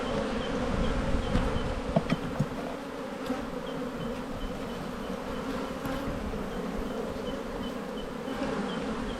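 Honey bees drone in a dense, continuous hum from the brood nest of an opened hive, close and steady, with a few louder buzzes as individual bees pass near.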